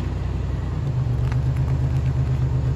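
A 2003 Chevy Venture van with 203,000 miles moves along with a steady low engine rumble and road noise, recorded close and unbroken.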